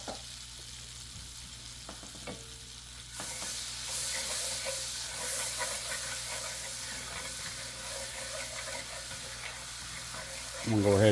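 Duck sizzles and fries in butter in a skillet, a soft steady crackle that swells partway through and continues quietly, with occasional stirring knocks and clinks.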